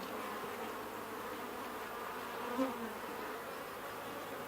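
Honeybees buzz in a steady, soft drone at an open beehive, with a single bee passing close for a moment midway, and no one speaking.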